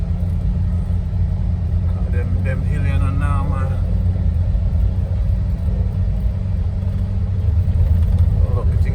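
A car drives through the hilly streets of Montego Bay, Jamaica, its steady low engine and road rumble running unbroken throughout while people chat casually over it.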